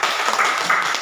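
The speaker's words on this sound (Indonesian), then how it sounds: "Tepuk tangan dulu buat teman kita." A classroom of students applauding a classmate, giving a brief burst of dense, steady clapping that sounds close and fairly loud.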